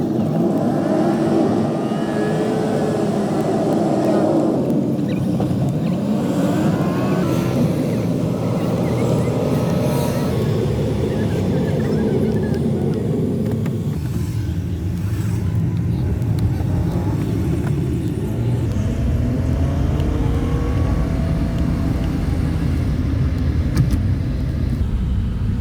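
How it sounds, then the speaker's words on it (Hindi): Steady road traffic with passing cars and engine hum, a continuous dense rumble throughout that stays close and fairly loud, heard while riding home on a busy street during kite season, with no talk over it. "आज तो बहुत ट्रैफिक है भाई"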